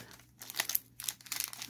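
A Pokémon booster pack's foil wrapper is torn open up close, giving quick crinkling and ripping bursts in a short, quiet sequence.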